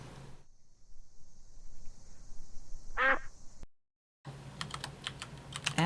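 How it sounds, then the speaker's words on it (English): A summoned evil duck in a video game gives a single short quack partway through, alongside steady computer keyboard typing nearby. "Cobra Chicken has an evil duck"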